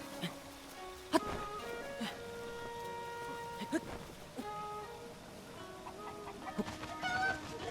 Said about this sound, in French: Il y a une poule là-haut.